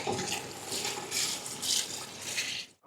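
Water splashes steadily into a cooking pot for mutton qorma, a close, continuous pouring rush that swells and fades before stopping.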